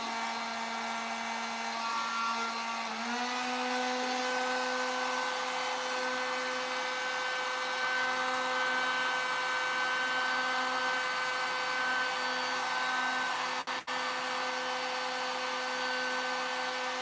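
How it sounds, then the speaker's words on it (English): Heat gun blowing steadily while a dented car fender is repaired, a loud, constant motor whine and airflow hiss with a slight pitch shift early on, running unbroken and close. "is that heat gun going to warp that panel?"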